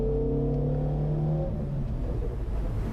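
A Toyota Celica rally car's engine drones close and steady as it accelerates, then its tone drops and roughens into a lower rumble, with no talking.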